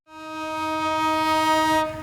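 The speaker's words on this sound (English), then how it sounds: "the first train on the China-Europe Railway Express also rolled into action" A China-Europe Railway Express train sounds a loud, sustained horn that swells in and holds for about two seconds over a low rumble.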